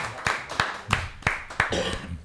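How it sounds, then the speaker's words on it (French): A handful of sharp, separate claps, about five or six spaced irregularly, close and fairly loud in a small studio setting during a French chat show, with brief murmuring between them. "on peut qu'applaudir"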